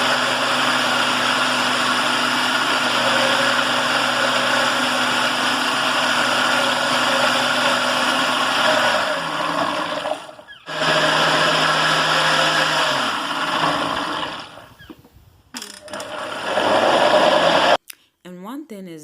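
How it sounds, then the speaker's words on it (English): A blender whirs steadily as it blends soy milk vegan mayonnaise with oil added, running in long stretches that stop and restart, with brief pauses and a final high burst. "we're going to allow it to blend more and add more oil to it"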